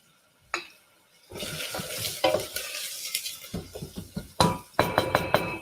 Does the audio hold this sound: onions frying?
yes